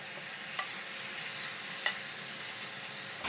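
Pork and chicken fry in a pan for adobo, giving a steady, even sizzle with a couple of soft scrapes as the meat is stirred.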